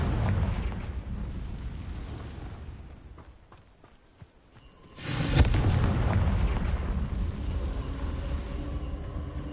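A Confringo spell explosion in the Hogwarts Legacy video game: after a noisy, rumbling stretch that fades, a sudden loud broadband blast erupts and carries on as a heavy, sustained roar.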